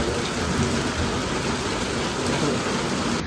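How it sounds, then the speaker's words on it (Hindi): Steady, heavy mountain rain in the hills near Kinnaur pours down in a continuous broadband hiss, close and loud, with no talking over it. "बारिश विलन बन गई है आज, सारा काम ख़राब कर दिया"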